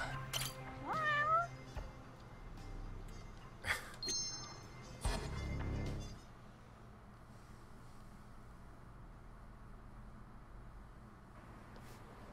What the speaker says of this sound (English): it sound like a cat or some shit.